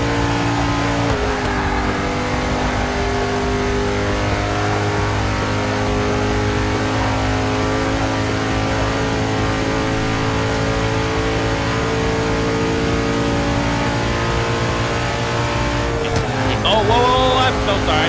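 Race car engines scream in Forza 6, holding high sustained revs with shifting pitch throughout, then a sharp rev change and squeal near the end, with talk over the top.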